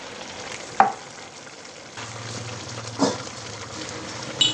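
Pork frying in a pan with shrimp paste, a faint steady sizzle broken by a few short stirring scrapes, with no talking.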